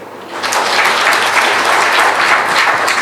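A crowd at a public event for expatriate workers claps in a loud, sustained wave of applause that swells and stays full throughout.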